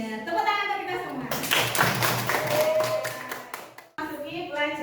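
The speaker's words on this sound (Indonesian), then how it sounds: "Tepuk tangan untuk kita semua." A school class applauds together, a dense burst of clapping hands lasting a few seconds, with a teacher talking before and after.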